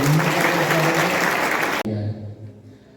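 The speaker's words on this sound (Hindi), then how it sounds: "सभी ताली बजा करके अपना अभिनंदन" An audience at a village and town defence committee gathering in a garden hall applauds loudly and densely, then the clapping cuts off abruptly and fades to scattered claps.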